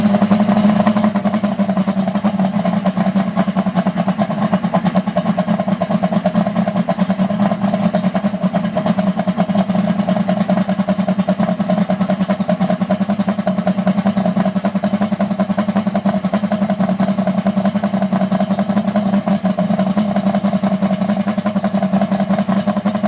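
A car engine idles steadily and close by, a constant low hum with no breaks from start to finish.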